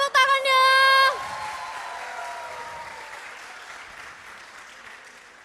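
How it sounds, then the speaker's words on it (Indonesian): A church anniversary crowd claps in a brief burst that starts right after a loud sustained tone, then fades out gradually under faint room noise. "Beri tepuk tangannya."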